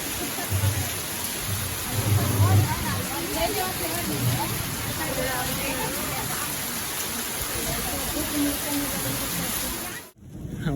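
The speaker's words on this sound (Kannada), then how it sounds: "ಜೋರಾಗುತ್ತೆ ಮಳೆ" Heavy rain pours steadily in the Bannerghatta forest, a dense hiss with a brief low rumble early on, and a short dropout near the end.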